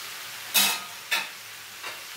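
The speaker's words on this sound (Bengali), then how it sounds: "দিয়ে আমি এখন এটাকে মিক্স করবো, এইভাবে নাড়তে থাকবো।" Chicken, capsicum and broccoli are stir-fried in a pan, with a soft continuous sizzle broken by three quick scraping stirs, the last one fainter.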